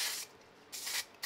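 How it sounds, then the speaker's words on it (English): Spray glue misted from an aerosol can onto the back of a festive card frame, heard as three short, faint hissing bursts close by with brief pauses between them. "we are just going to do a little bit of spray glue on the back of this"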